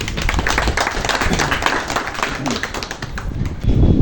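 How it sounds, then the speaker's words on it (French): Audience applauding at an association ceremony in Cotonou, clapping close and uneven with scattered sharp taps, fairly loud throughout with a burst of heavier noise at the end. "je vous prie d'applaudir très fort"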